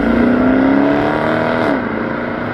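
A sports car launches hard using launch control at a supercar meeting, its engine note climbing steadily in pitch, loud and close, then shifting and easing as it pulls away.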